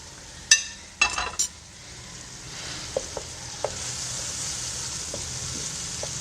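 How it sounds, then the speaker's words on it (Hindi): Tomatoes sizzle and fry in a pan of white chickpea curry, with a few sharp clatters of stirring near the start, then a steady, moderate sizzle and occasional soft pops. "अब हम इस समय पे आकर हम अपना टमाटर भी डाल देंगे"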